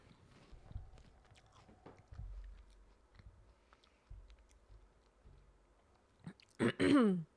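Quiet, close crunching and chewing of a freshly baked cookie, soft irregular bites spread through the clip, followed by a sudden loud burst of noise at the end.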